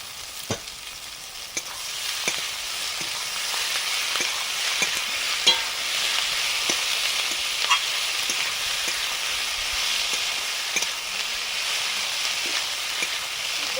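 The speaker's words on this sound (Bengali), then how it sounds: "পেঁয়াজটা দিয়ে দিই" Chopped onions hit hot oil in a pan and fry with a steady, close sizzle through the whole stretch, with occasional stirring knocks, while a Malabar spinach dish with fish head is cooked.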